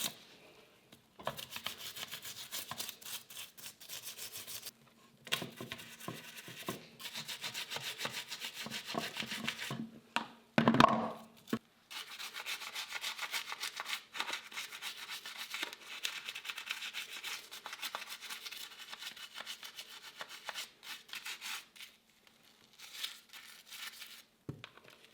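Steady close rubbing and scrubbing over a grimy thrift-store find, with a gritty, scratchy texture and a few short pauses and one sharper knock partway through.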